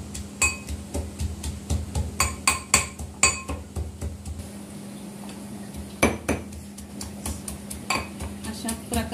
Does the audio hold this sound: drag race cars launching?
no